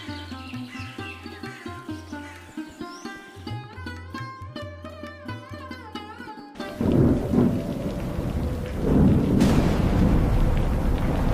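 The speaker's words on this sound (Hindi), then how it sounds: "कुछ दिनों बाद बरसात की आखिरी और सबसे तेज रात आ गई।" Heavy rain and thunder on a stormy night arrive after a stretch of plucked, melodic music, as a dense roar of rainfall with rolling low thunder swells loudly and fills the rest of the scene.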